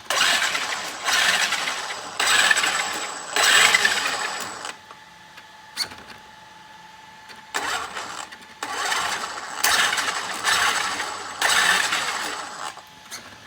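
Traxxas Xmaxx RC truck drivetrain with a suspected faulty differential, giving off rough, ratcheting mechanical grinding in repeated bursts separated by short quieter gaps, close and moderately loud.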